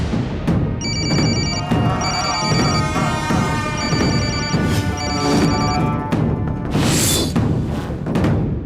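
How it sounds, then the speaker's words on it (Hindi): A telephone rings in repeated bursts of bright electronic trills, loud over a busy, cluttered background with dramatic music-like noise. "वहाँ फोन बज रहा है"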